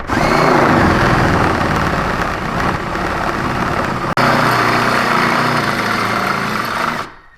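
A power drill with a 7/16 bit bores a pilot hole through the frame of a 2007+ Yamaha Drive G29 golf cart. It makes a steady, close whirring grind for about seven seconds, with one brief break in the middle.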